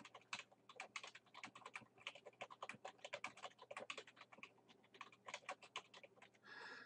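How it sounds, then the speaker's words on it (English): Fingers typing on a computer keyboard in a quiet room, a steady, irregular stream of soft, close key clicks with no talk. "there's a description we can type in"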